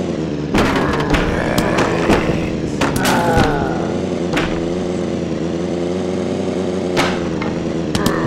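Car engine roaring in the zombie-smashing driving game Earn to Die 2, a steady loud drone with revving swells and several sharp thuds and impacts over about eight seconds, no talk.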